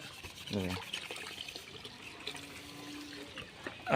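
Steady running water from a tap while washing dishes, with faint rubbing and clinking, moderately quiet, with a brief voice-like sound early on.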